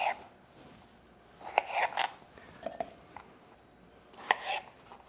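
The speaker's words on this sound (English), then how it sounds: "We're going to be quartering our strawberries." A kitchen knife quarters fresh strawberries on a cutting board, making a few sharp, close chopping taps in small bursts separated by short pauses.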